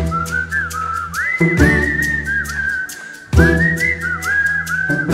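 A loud, melodic whistle carries the tune of a Bollywood film song, with sliding, warbling phrases over a rhythmic instrumental backing that drops out briefly and then returns.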